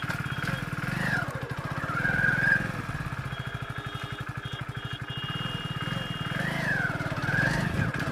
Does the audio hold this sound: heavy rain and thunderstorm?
no